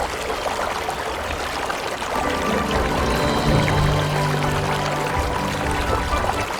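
Steady rushing water at a waterfall in Thailand near the Kwai River, a full broadband roar that holds at an even level throughout with no voices.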